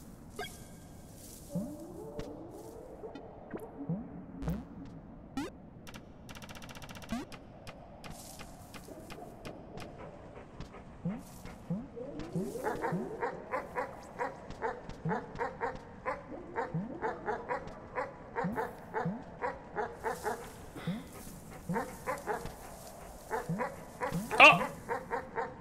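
A dog barks, yips and whimpers in a video game, with many short repeated calls that grow busier and louder over time, under game sounds and without speech.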